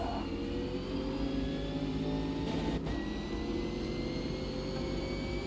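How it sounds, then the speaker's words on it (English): A racing car's engine in a racing video game, a steady droning hum with gradually rising pitch, continuous at moderate level with no talk. "But when we joined the grid, the car sound came back"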